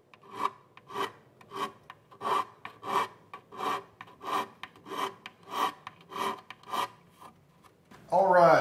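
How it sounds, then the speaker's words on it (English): A small fret end file rasps across the fret edges of an acoustic guitar during a refret, in about a dozen even, rhythmic strokes up close, with one louder, harsher scrape at the end. "here's the just small little fret end file, and I'll just bring it on over here and just gonna kiss this edge"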